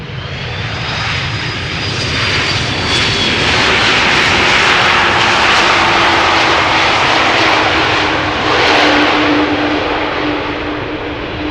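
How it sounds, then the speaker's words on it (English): KLM Airbus A330-300 jet arriving from Toronto, landing at Schiphol Airport, its engines roaring loud and steady throughout with a sustained whine and a slowly gliding tone, swelling slightly midway and near the end. "KLM flight 696, arriving from Toronto, A330-300. Wheelie time."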